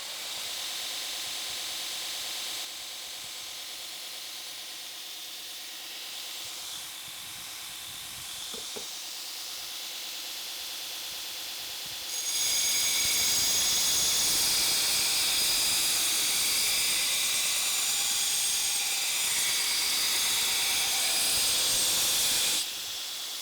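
A 2x72 belt grinder driven by a 2 horsepower motor runs at about 80% speed, making a steady hiss that grows much louder and brighter midway, likely as a blade meets the belt, then drops back at the end.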